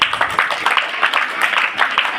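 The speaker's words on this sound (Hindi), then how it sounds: "एक बार जोरदार तालियां।" Schoolchildren at a weekly cultural gathering break into loud applause, a dense burst of clapping that holds for a couple of seconds, with voices mixed in.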